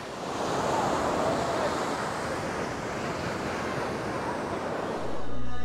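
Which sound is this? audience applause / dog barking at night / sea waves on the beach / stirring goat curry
sea waves on the beach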